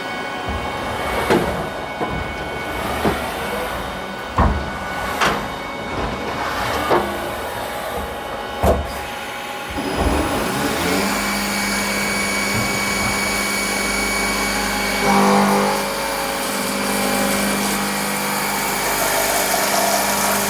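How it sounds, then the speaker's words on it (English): A machine cutting a keyway slot into a metal sprocket with coolant on the tool: sharp intermittent knocks at first, then a loud, steady grinding whine of cutting that swells and holds to the end. "So we're going to take and cut this key,"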